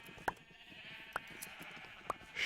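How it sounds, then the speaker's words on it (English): Sheep in Minecraft bleating in three short, evenly spaced calls, fairly close and clear over a soft background hiss, with no talking. "Sheep. Yep, a lot of sheep."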